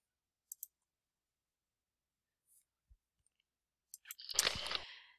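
Computer mouse clicks stepping through a PowerPoint slideshow: a couple of sharp, faint clicks early and a few more scattered later, then a brief louder burst of rustling noise near the end.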